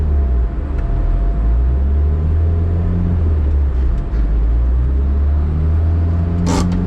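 A car engine runs steadily in gear on a chassis dynamometer, a loud, constant low rumble and drone that holds throughout, with a brief higher hiss rising near the end.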